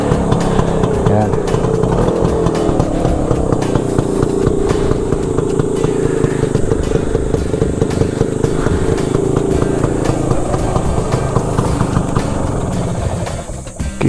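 A Vespa PX 150 scooter engine is push-started and keeps running with a steady, loud, close idle throughout, while a voice speaks over it.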